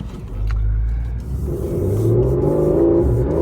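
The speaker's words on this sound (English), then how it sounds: "you get an incredible engine sound in this car" Engine of a 2014 Porsche 911 Carrera 4 Cabriolet revving up during a test drive, a low rumble swelling into a rising, throaty growl heard from inside the car, steady and loud with no voices.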